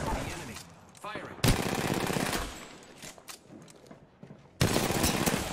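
Video game gunfire in Apex Legends: loud sustained bursts of automatic weapon fire with sharp onsets, broken by brief pauses, with voices talking over the shooting.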